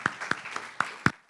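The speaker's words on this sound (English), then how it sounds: "A big round of applause to Tracy Boumeri" Sparse, scattered clapping from a startup pitch event audience, a handful of distinct loud claps at uneven intervals fading out within about a second.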